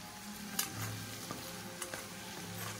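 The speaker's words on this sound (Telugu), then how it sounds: "ఇంకొద్దిగా ఫ్రై అవ్వాలి ప్రాన్స్" Prawns fry in a pan for pachadi with a steady, moderate sizzle and occasional clinks and scrapes of stirring, heard alone without talk.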